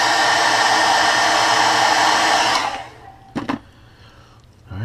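A heat gun blows steadily while heat-setting paint on a custom bluegill crankbait, a loud roaring hiss that runs for over two seconds before shutting off and fading, followed by a few brief handling clicks.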